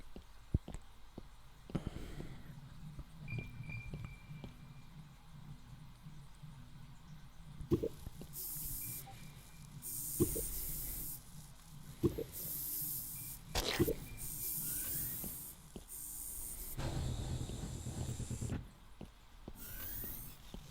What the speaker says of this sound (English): So when you hit this, it will spray it and turn it back to white.